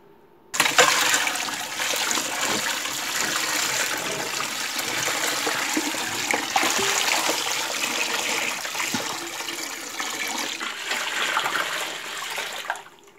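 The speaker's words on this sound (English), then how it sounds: "I pour the hot water over top of it" Hot water gushes and splashes steadily into a sink for about twelve seconds, starting abruptly and cutting off at the end; no one speaks.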